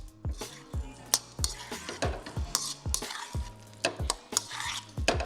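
A vegan Sichuan stir-fry being tossed and stirred in a pan, with repeated sharp utensil scrapes and clinks over a soft sizzle, close and rhythmic.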